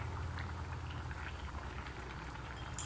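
Paneer butter masala gravy simmers in a pan, giving a soft continuous bubbling and popping at close range with no talk over it.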